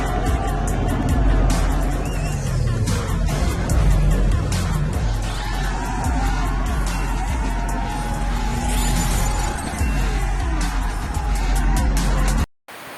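Cars racing head to head on a public toll highway in a film street race, with loud, continuous engine roar and passing whooshes throughout, briefly cutting out at the end.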